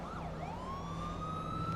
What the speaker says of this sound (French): Gyrophare, 2 tons. Gyrophare, sirène.